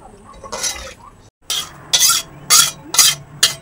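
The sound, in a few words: stirring noodles in a wok of water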